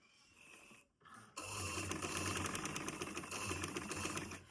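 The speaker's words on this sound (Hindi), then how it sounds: "अब मैं सिलाई लगाऊंगी इसकी" Sewing machine stitching a boat neck, a brief pause followed by a steady, close mechanical whirring hum with a rhythmic needle chatter running continuously, no voices.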